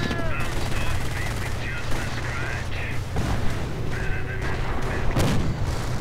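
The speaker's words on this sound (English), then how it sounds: "More mortar fire." Mortar fire and rifle gunfire from a World War II strategy video game battle, with Volksgrenadiers and MP40s fighting American troops. Dense, continuous shots and booms rumble under steady talk, with a sharp blast near the end.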